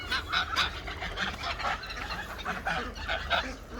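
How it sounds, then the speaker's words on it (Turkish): Several geese honk repeatedly and overlap in a noisy chorus, close and fairly loud, with a low rumble underneath. "Evet kazlar hemen geldiler."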